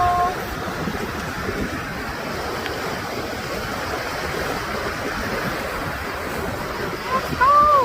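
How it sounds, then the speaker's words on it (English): Water pours steadily at Cataract Falls, a waterfall in Indiana, making a broad continuous rush outdoors, with gusts of wind buffeting the microphone and a brief whistle-like tone near the end. "That's water in the falls."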